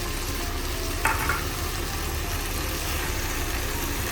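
Mutton curry with tomato paste frying in oil as it is stirred, giving a steady, close sizzle throughout with a brief brighter scrape of the spoon partway through.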